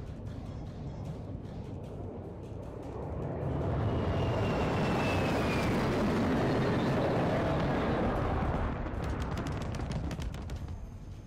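A stealth bomber air strike in a video game on a Mt. Zaya defender map starts quietly, swells into a loud, broad roar with a thin descending whine, then tapers off with crackling debris.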